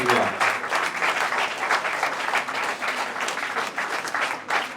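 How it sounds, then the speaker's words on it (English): Steady applause from an audience at a poultry industry event in Nigeria, dense clapping sustained for about five seconds with faint voices mixed in. "A big round of applause for them"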